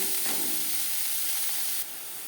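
Onions frying with turmeric in about a spoonful of oil in a pan, a constant close sizzle and steam hiss that drops a little near the end, with no voices.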